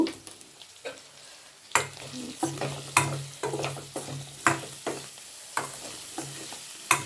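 Ginger garlic paste and spices fry in oil under constant sizzling, broken by repeated sharp scrapes and knocks of stirring every half second or so, close and busy, with no speech.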